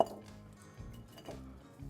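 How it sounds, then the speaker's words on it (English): Chicken wings for garlic parmesan drop into a glass bowl, giving a few soft, faint clinks and thuds at close range with quiet handling noise between them. "You can hear them hit that glass."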